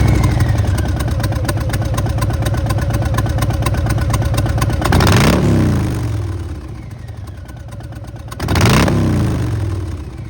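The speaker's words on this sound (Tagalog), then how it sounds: "today we have Harley Davidson Softail Heritage Classic 114" A Harley-Davidson Softail Heritage Classic 114 motorcycle rumbles steadily at close range, its deep engine loping evenly with two brief swells of revving.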